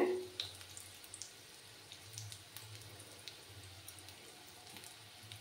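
Sabudana vada frying in oil over a low flame, giving a faint, steady crackle and light popping throughout with no voices.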